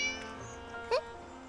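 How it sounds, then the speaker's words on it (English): A cat in the visual novel Summer Pockets Reflection Blue gives a single short, rising meow that stands out briefly over soft, steady background music, with no speech. "Oh, the cat."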